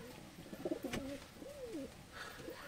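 Pigeons in a breeding cage coo softly and close by, a few throaty rolling calls spread across the moment over faint background noise.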